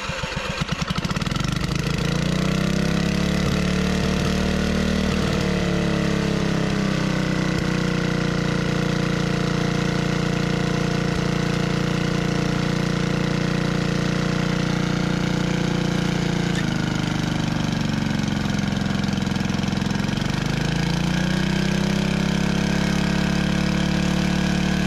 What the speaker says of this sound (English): Let's get that back tiller going.